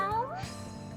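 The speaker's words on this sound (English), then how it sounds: "The squirrel just meowed." Meow of the spirit Puck, a cat-like creature in the Re:Zero Prophecy of the Throne video game: a single short rising-then-falling cartoonish meow, clear and close, followed by a soft tail of game ambience.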